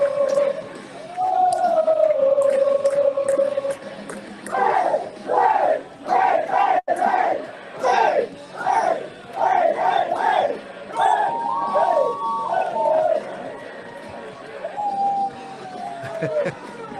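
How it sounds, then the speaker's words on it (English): A packed hockey arena crowd erupts after a goal, roaring and chanting in repeated rhythmic surges with whoops and cheers, loud and close, swelling and fading over many seconds. "I loved just hearing the crowd erupt"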